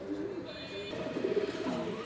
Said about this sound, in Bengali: এক জোড়া নান কবুতর, ব্ল্যাক কালার নান কবুতর কিন্তু এখন বর্তমানে সচরাচর দেখা যায় না